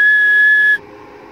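A person whistles a steady high tone into a mobile CB radio microphone, a Superstar rig being tested for output power; the loud sustained whistle holds for most of the clip, then cuts off abruptly, leaving quiet background hiss.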